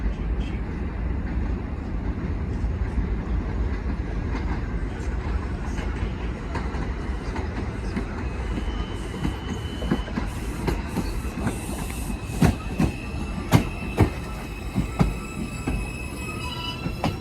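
A New York City subway 4 train pulls into Bedford Park Boulevard–Lehman College station, wheels rumbling and clacking over rail joints with rising squeals and metallic screeches, loud and close.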